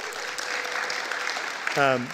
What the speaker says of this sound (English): a round of applause for them for perseverance